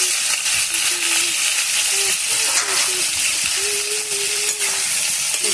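Flat beans coated in turmeric, salt and sugar fry in hot oil with black cumin, a steady loud sizzle and hiss running continuously, with a faint tonal hum underneath.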